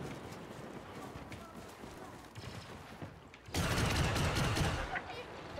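Blaster gunfire in a Star Wars video game, sustained bursts of shots under constant busy game noise, growing louder and denser in the final two seconds as the firefight intensifies, with voices mixed in.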